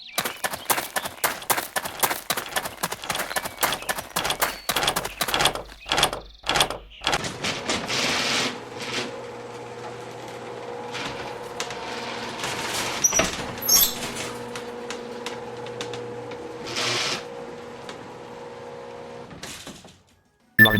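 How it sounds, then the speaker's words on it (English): A door opens in the audio game Bokurano Daibouken 3: a rapid burst of sharp clicks, then a long sustained mechanical whirring slide with small knocks, ending in a brief pause and a final click. "First, try opening the door that is located to the right. You can hear the sound of the door."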